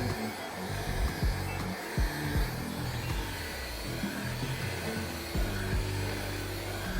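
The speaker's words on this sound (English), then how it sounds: "I'm gonna grab my heat gun, stick it back on low, kind of heat that side up again." A heat gun on its low setting blows a steady, dense airflow roar while it warms the adhesive on a car reflector trim. Faint knocks and handling sounds come through underneath.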